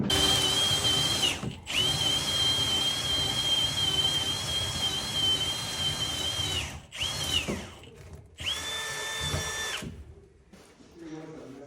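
A power drill bores through material in a shop building under construction, its high-pitched motor whine running steadily for several seconds, stopping briefly, then restarting in shorter bursts that wind down near the end.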